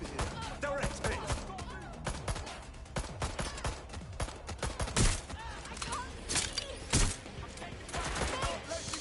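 Rapid bursts of gunfire in the video game Watch Dogs Legion, a dense fusillade of crackling shots with a few louder reports standing out, under a voice speaking over it.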